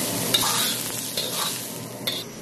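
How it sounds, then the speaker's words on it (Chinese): Onion shreds stir-frying in hot oil in a wok, a steady bright sizzle broken by a few scrapes and tosses of the spatula, close and without speech. "锅中加少许油烧热，油热后下入洋葱丝，炒出香味"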